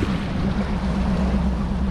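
A Lynx Basscat bass boat's outboard engine idles with a steady low rumble and growl, close and constant, with a water wash mixed in.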